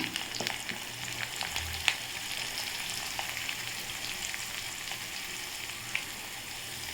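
Curry leaves, onion and asafoetida powder sizzle and crackle steadily in hot oil while making a small-leaved amaranth chutney, with a few louder pops and spoon stirs over the continuous frying hiss.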